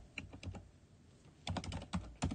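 Typing on a computer keyboard: quick, light key taps in two short bursts separated by a pause, close and quiet with no talk.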